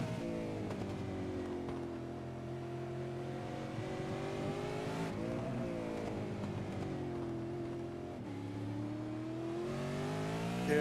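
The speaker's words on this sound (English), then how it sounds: "you can hear these guys are really trying to look after the tyres, get the power down as smooth as possible without the wheel spin" V8 race cars in the Supercheap Auto East Coast V8 series at Winton accelerate out of a corner, a loud sustained engine roar with rising and falling pitch as gears shift, several cars passing close.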